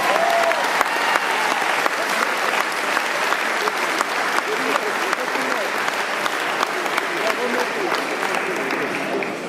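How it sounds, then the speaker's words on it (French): Sustained thunderous applause at a republican dinner for the deputy-mayor, a dense roomful of clapping holding loud and even throughout with crisp individual claps standing out. "je voudrais, là aussi, que votre tonnerre d'applaudissements s'adresse à notre député-maire Patrick Balkany"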